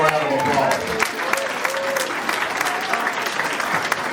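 Audience applause at a Thornton Township government meeting, steady clapping from a crowd throughout, fairly loud, with a few voices and cheers mixed in.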